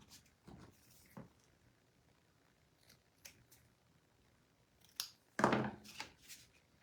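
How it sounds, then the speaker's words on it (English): Scissors snipping small ribbons for a craft frame, a few soft, scattered cuts close by with quiet handling noises and a louder burst of snips near the end. "I might still have to trim these little ribbons down just a hair more"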